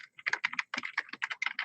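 Quick bursts of keystrokes on a computer keyboard, a close, uneven run of clicks and taps with brief pauses, no talking.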